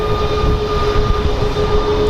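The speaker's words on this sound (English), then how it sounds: "our next plane is Southwest 4633 going to Milwaukee" A Southwest Airlines jet on flight 4633 to Milwaukee at Sky Harbor airport gives a loud, steady engine roar with a sustained whine, close and continuous throughout.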